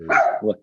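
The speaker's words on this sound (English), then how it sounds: "So I apologize for the dog barking." A dog barks twice in quick succession indoors, close and fairly loud, apparently at another dog outside the house, with no talk over it.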